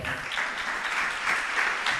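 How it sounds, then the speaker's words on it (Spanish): A church congregation claps during a worship service, a continuous layer of many hands applauding, moderately distant and fairly soft, with slight swells in intensity. "¿Qué tal si usted le da un fuerte aplauso al Señor?"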